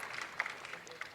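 Applause from the crowd at a men's 50m prone rifle shooting final in Beijing, a soft, steady patter of clapping with a few sharper bursts, heard at a moderate distance.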